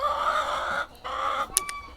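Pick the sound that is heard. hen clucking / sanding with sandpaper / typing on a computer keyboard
hen clucking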